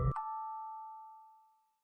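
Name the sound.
bell ringing sound effect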